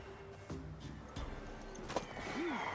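A horse, a mare in the video game The Witcher 3, gives a short whinny near the end after some muffled hoof-like thuds, all set against a steady game background with no speech.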